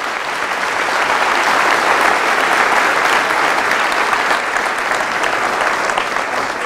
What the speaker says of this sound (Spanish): Fuertes aplausos a Jesús de Nazaret.